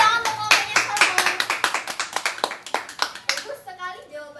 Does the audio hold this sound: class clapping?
yes